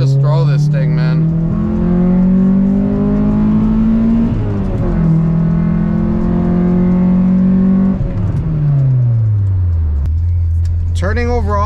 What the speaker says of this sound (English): Car's driving super smooth.